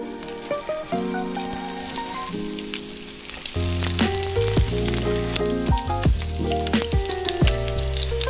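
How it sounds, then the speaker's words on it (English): Steady, crackling sizzle of red fish frying in a hot oiled pan, close and continuous, growing slightly louder partway through. "In they go, wait to hear the sizzle."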